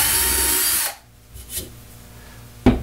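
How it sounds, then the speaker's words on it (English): A handheld power drill boring a hole with a bit under hand pressure, a loud whirring burst for about a second that stops abruptly, then quiet with a few faint knocks and a sharp click. "I push down on the drill, which provides cutting force on the bit."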